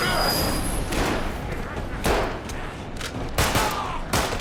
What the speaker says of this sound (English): fights back with gunfire, engaging in a fierce battle against the 3 invaders by himself